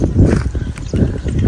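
Hooves of a pure desi Jhang mare at a stud farm in Pakistan, a close, loud run of clip-clop beats in a quick, uneven rhythm.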